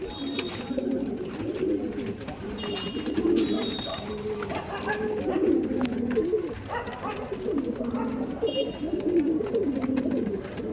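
Several Udan Andhra pigeons, including male birds, coo steadily and close by in a low, throaty rolling murmur that overlaps continuously, with faint chirps from other birds and a busy background.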